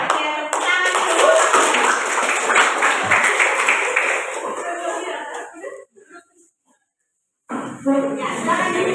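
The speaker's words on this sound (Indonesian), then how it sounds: "Oke, tepuk tangan dulu." A school class clapping their hands together in a classroom, loud rhythmic group claps mixed with voices chanting along, fading out into a brief silence before clapping and voices resume near the end.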